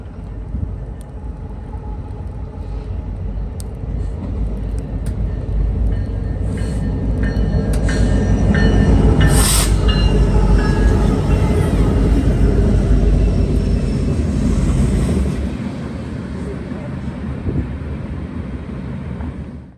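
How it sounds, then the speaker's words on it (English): Union Pacific transfer freight train led by three locomotives including an AC-44, rumbling steadily past nearby and loud throughout, with a low heavy roar that swells mid-pass and eases near the end. "turned out to be a Union Pacific transfer with Union Pacific Ace leading, AC-44 in second, and Thundercab Ace in third"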